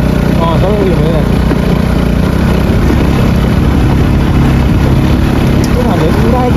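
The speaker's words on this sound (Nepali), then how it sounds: "उनीहरूले उडायो क्या बाइक त" A motorcycle engine runs loudly and steadily up close with a constant low rumble, its pitch wavering slightly, outdoors on a hilly road trip in Ilam, Nepal.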